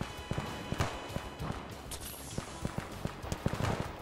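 Horse hooves in Fallout 4 clip-clop in a steady, quiet walking rhythm of repeated sharp thuds, over a faint game background with no talking.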